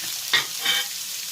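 Chilli, ginger, onion and coconut frying in a pan for jackfruit seed thoran are stirred twice, each stir giving a short scraping rustle over a faint steady sizzle.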